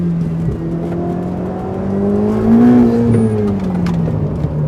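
Ferrari 488 GTB under acceleration, a loud engine note sweeping upward smoothly, swelling in the middle then easing, heard from inside the car with no talking.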